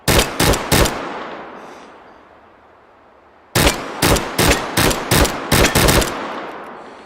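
Rapid gunshots ring out from a gun in the VR shooting game H3VR, first one three-round burst, then after a long decaying echo a string of further quick bursts, loud and close with no talk.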